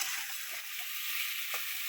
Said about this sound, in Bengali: এবার ভেজে নিচ্ছি, একটু লালচে মতো হলে তারপর মশলাগুলো সব দেবো